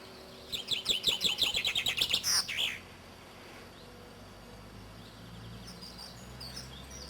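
A bright, rapid series of descending chirps ending in a flourish, a finch-like song, followed by quieter distant bird calls.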